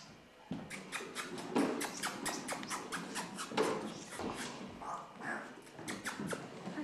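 A puppy yips and whimpers in quick, repeated bursts, high and fairly close, with scuffling in between.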